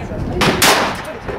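A single sharp crack from a .357 Magnum revolver fired outdoors in Burro Canyon, loud and close, with a short echoing tail, standing alone without talk.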